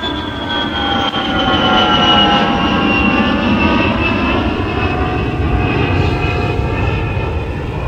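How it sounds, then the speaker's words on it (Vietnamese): Jet aircraft engine roaring loud and continuous, a dense rumble with a high whine drifting slowly across the whole span, no voices. "Máy bay phản lực ạ."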